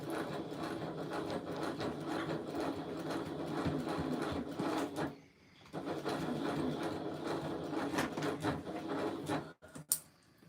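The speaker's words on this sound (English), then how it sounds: "We're just going to go around and stitch again, 1/8 of an inch." A sewing machine stitches a bag at a live event, whirring steadily for about five seconds, pausing briefly, then running on again before stopping near the end.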